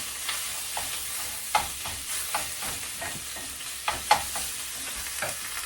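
Meat fries in a hot pan with a soft sizzle under repeated stirring scrapes and light knocks that come every second or so, fairly close and moderately quiet.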